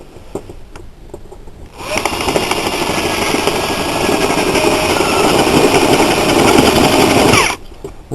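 A drill drives a 1.5 inch paddle bit into a metal can to score it for a lightweight alternative fuel stove. The loud whining grind starts abruptly, rises in strength, then stops just as suddenly.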